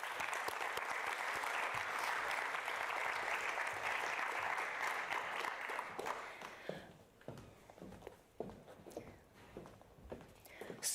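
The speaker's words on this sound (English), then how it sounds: "if I can ask for a round of applause" An audience at an energy efficiency and digitalisation conference gives a round of applause. A dense, loud burst of clapping lasts about six seconds, then fades into scattered claps, footsteps and shuffling.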